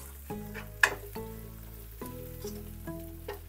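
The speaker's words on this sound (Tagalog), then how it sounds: "Tuloy lang natin yung paggisa ng mga 1 minute." Red onion sautés in a pan with a low, quiet sizzle, punctuated by a few stirring knocks and scrapes at close range.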